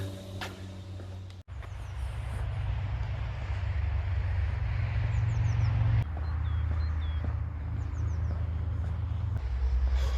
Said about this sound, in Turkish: Hemen üstümüzden arabalar geçiyor.